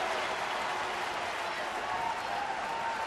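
At a Cardinals–Astros baseball game in Houston, a stadium crowd applauds after a fielder makes a catch, a broad, steady wash of clapping and cheering that holds for the whole stretch.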